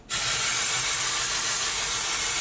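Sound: one-day colored hair spray being sprayed

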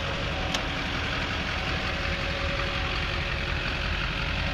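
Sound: Duramax diesel engine of a 2006 Hummer H1 Alpha idling

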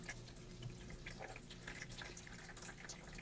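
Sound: water being poured into toy pool

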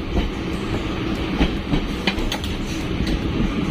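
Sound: moving train

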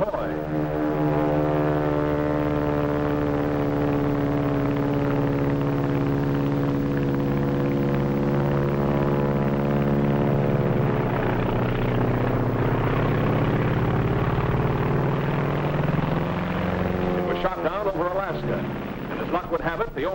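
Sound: Japanese Zero fighter aircraft flying

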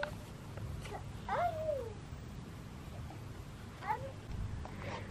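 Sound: cat meowing

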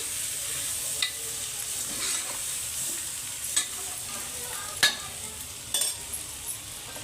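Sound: stirring mutton curry with brinjal and tomatoes in pan

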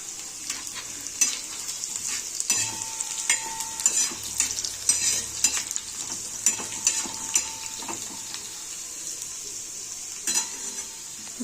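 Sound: garlic frying in oil in a pan

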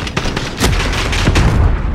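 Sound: automatic shotgun (Draugr) firing in Call of Duty Modern Warfare video game

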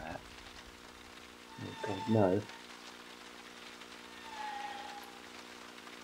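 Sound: rain and thunder in the video game Unreal PT

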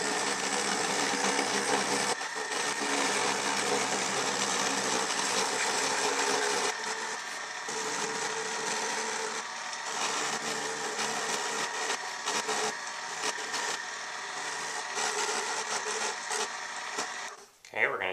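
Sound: routing out a sound hole in a cigar box guitar

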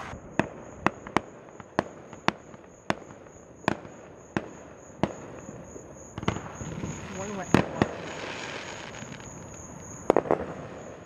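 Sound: fireworks exploding in the distance

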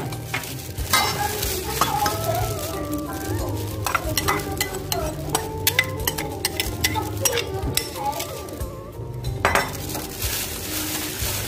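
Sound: mixing pork ear with garlic chili fish sauce dressing

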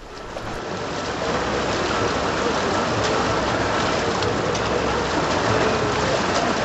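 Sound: mighty current of the river Ganga

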